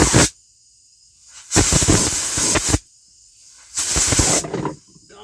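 Three loud bursts of compressed air from an air hose, each a steady broadband hiss lasting about a second, separated by silence, close to the mic with no talking.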